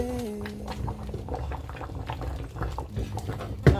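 Festive soup bubbling in a pot, dense irregular boiling pops and gurgles close up, with a short tonal hum at the start and a louder clatter at the end.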